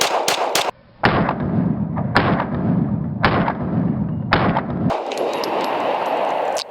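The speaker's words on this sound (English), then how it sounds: "we shot 3 different grains of 9mm ammunition in order to show you how the different grains recoil with this Ghenghis Comp" Four 124-grain 9mm rounds are fired from a pistol fitted with a Ghenghis Comp C2X compensator: sharp, loud, evenly spaced cracks about a second apart, each followed by a brief ringing tail, then a quieter outdoor pause.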